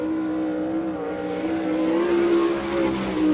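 Sprint car engine at a dirt track race in Abbottstown, PA, droning steadily and loud, its pitch rising and falling as it circles, with a little smoke from the side, alone without talk.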